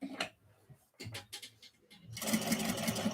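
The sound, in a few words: sewing machine back stitching over stitches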